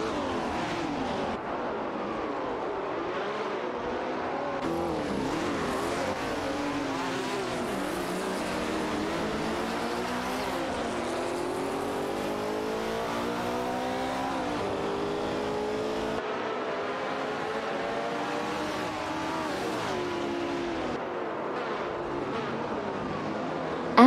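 A Ferrari 330 and a Porsche 908 Coupe battle wheel to wheel in a racing video game, their engines droning and revving continuously with rising and falling pitch sweeps, loud and steady throughout without speech.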